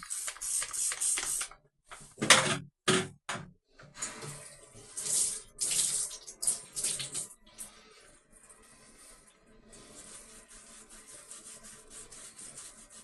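Hot tap water runs in bursts over a freshly painted railing, rinsing off Damla paint remover with splashing and rubbing, then settles into a steadier, softer stream.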